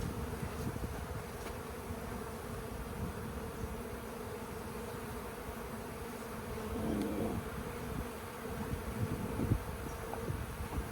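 Swarm bees buzzing around an open hive box, a dense continuous hum from many insects, steady and close, no talk.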